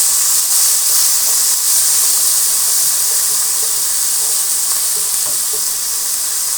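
Onion, garlic, green chili and mustard pastes fry in hot oil with dried chili and cumin in a big wok, giving a loud, steady hiss and sizzle with faint stirring clicks and no talk.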